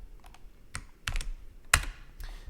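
A handful of separate keystrokes tap on a computer keyboard, sparse and unhurried, with one sharper, louder clack near the end and no speech.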